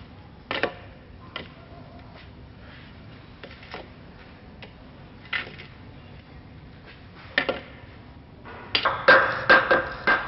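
A hammer strikes a piece of board to settle a concrete window sill into place on a formwork job, giving a few sharp, separated knocks at uneven intervals and then a quicker cluster of taps at the end, close and fairly clear.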